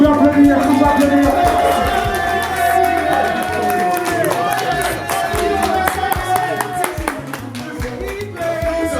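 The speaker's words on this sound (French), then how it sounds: "Est-ce qu'on peut applaudir?" An audience applauds at an event, with scattered claps and crowd noise over music and voices throughout.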